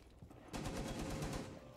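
Video game gunfire, a short burst of rapid automatic shots that starts abruptly and keeps rattling steadily, moderately loud and close.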